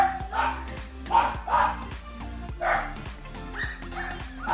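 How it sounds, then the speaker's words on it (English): Pet dogs in an urban tropical food forest garden bark in several loud, separated bursts over a few seconds, fairly close by. "Excuse my dogs, please."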